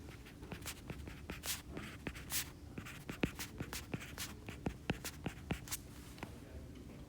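A pen scratches out an inequality by hand on paper in quick, uneven strokes with short taps between them, close and quiet, with no speech.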